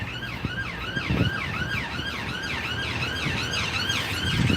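An ambulance siren wails in a steady rising and falling pattern from across a street near a station, moderately loud over the rumble of road traffic, with no talking.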